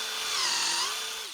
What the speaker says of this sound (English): I'm going to come over here with my 3/8 inch spade bit, and I'm going to center it on the post at my mark,